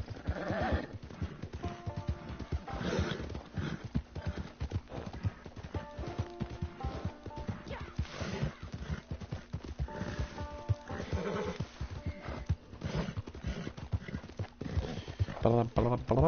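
Horses in the Red Dead Redemption 2 video game clatter with steady clip-clop hooves and repeated neighs and whinnies, mixed with in-game music and sounds throughout.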